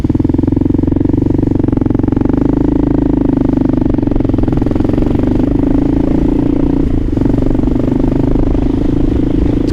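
A Kawasaki KLR650 motorcycle engine drones loudly and steadily on a cold night ride from Queens toward Manhattan, cruising with a low, rough hum and slight variations in revs throughout.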